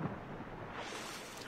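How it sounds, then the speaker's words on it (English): A storm rumbles through a pirate-era sea setting in Assassin's Creed IV: Black Flag, a faint, low, steady roar of thunder and rain washing on with no voices over it. "the storm's not that bad here"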